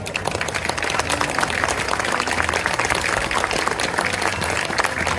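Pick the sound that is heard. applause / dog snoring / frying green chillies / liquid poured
applause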